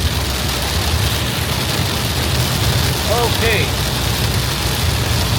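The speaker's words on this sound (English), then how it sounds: "Wow, getting some good rain right now." Heavy rain pours down steadily during a Florida storm near Disney's Typhoon Lagoon, a dense continuous hiss filling the scene, with a short spoken word and faint distant bird calls in the background.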